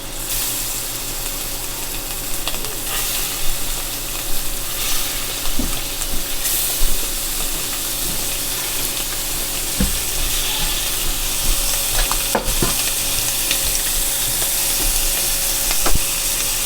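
Shrimp frying in a pan gives a steady, close sizzle with occasional stirring knocks and scrapes, with no one talking.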